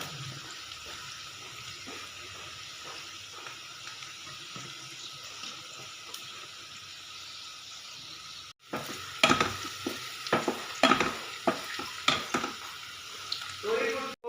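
Onions frying and samosas being stirred in hot oil, a steady sizzle with scraping and clinking bursts of stirring toward the end.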